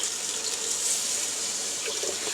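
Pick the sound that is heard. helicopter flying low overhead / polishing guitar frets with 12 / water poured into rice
water poured into rice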